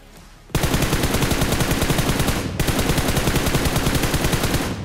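Sustained rapid-fire gunfire from a mobile battle-royale shooter match, loud and continuous in two long bursts with a brief break between them, and no talking.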